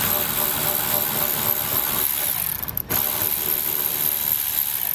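A ratchet winds steadily while backing out 7mm screws beneath a 2021 Chevrolet during a trailer hitch install, making a continuous close mechanical clicking with one brief pause midway.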